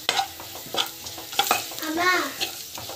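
Spices sautéing in a pan with asafoetida, rock salt and chili powder: a few distinct, close scrapes of a spoon stirring against the pan over a soft, steady sizzle.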